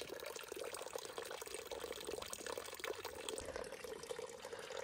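Spring water near the Calf Mountain shelter on the Appalachian Trail flows in a steady, faint, continuous babble with no voices present.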